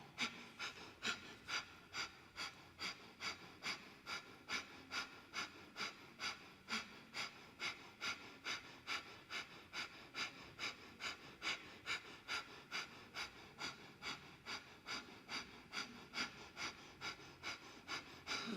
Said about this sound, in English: And then you'll come with me for breath of fire, or just breathe normally.